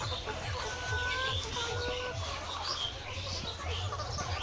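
Layer hens of the Bovans White breed clucking on a poultry farm, a steady chorus of overlapping clucks and short calls from many birds at close to middle distance, with no voices present.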